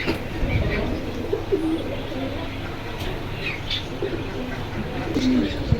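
Pigeons coo at the Jinjira bazaar pigeon market, with soft repeated coos through steady crowd noise and nearby chatter.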